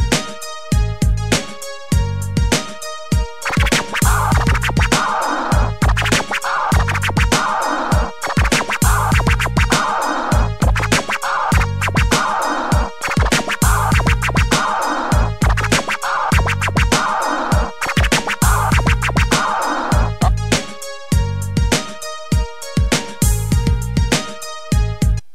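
Keyboard-triggered DJ scratch effects in Virtual DJ cut rhythmically over a loud instrumental beat, with repeated short choppy bursts throughout and no talking.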